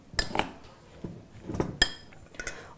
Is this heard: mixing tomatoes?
yes